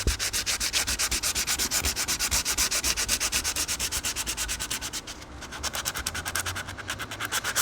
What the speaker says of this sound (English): I'm going to sand the back side the same way.